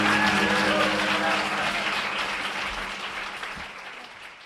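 A studio audience applauds at a radio show taping, a burst of clapping that starts full and gradually fades out, with some faint tonal sound underneath.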